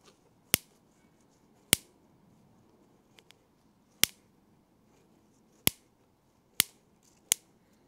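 A rechargeable bug zapper zaps a leaf in a quiet setting, giving six sharp, isolated snapping cracks spaced a second or two apart, with a couple of tiny ticks between them.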